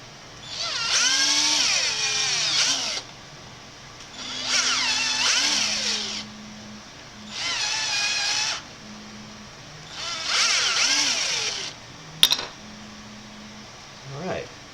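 A power drill runs in bursts during a DIY laser cutter and engraver build: four whining spells of about two seconds each, rising and falling in pitch, separated by pauses with a quiet hum and a sharp click near the end.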